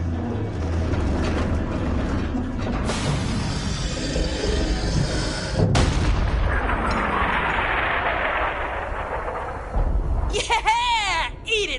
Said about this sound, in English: You know how long it's been since I fired a cannon this big?